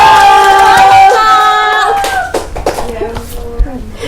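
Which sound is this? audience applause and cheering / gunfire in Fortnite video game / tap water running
audience applause and cheering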